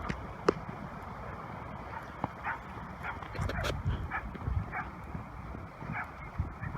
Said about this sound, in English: You got a dog being troublesome.